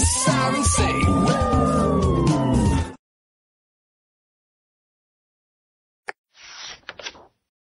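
A wailing cartoon police siren rises and falls loudly for about three seconds over a jumble of busy sound, then cuts to silence before a brief, fainter rustle and knock near the end.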